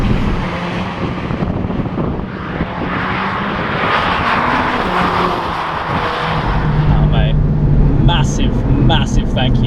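A 2020 Mercedes A45S AMG in track mode with exhaust open, driven hard on a circuit: loud engine and exhaust roar with shifting pitch, then crackles and pops near the end, with someone talking over it.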